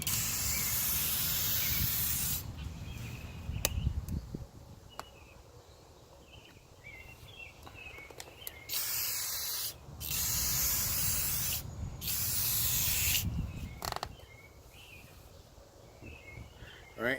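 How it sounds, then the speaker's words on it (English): Several long bursts of aerosol spray hiss, close and steady, separated by short pauses with faint rustling and handling noise. "So you just go in and you're going to spray in smooth,"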